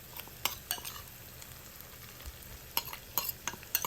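Ground dried chili added to cooked onions for sambal nasi lemak, frying with a low steady sizzle and several sharp spatula scrapes and taps against the pan, close and without talk.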